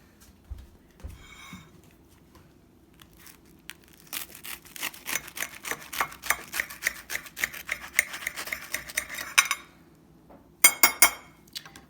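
A knife chops through tuna on a cutting board in a rapid run of crisp, steady taps that start after a quiet stretch, pause briefly, then resume with a few sharper knocks.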